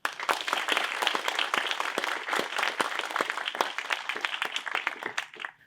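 A dense, sustained round of audience applause at the 2024 Stumberg Venture Competition seed round honours Herb Stumberg and family, many hands clapping loudly and continuously before tapering off at the end.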